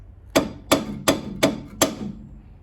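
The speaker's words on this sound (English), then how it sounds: "Let's give it a few whacks." Five sharp hammer blows at an even, steady pace strike a stuck brake caliper pin on a 1994-1996 Chevy Impala SS or Caprice 9C1, each a close metallic knock with a short ring, no talking.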